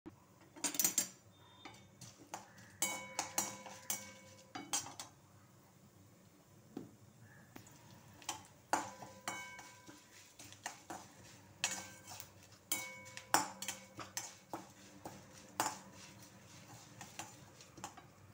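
Metal pots, pans and utensils clatter in a home kitchen while sambar tempering is cooked, sharp scattered clinks and knocks in irregular bursts, fairly close over a quiet background.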